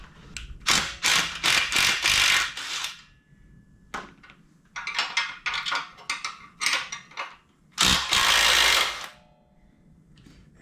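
A ratchet works loose the motor mounts on a vintage Honda XL dirt bike, loud close bursts of rapid clicking repeating in several runs separated by short pauses.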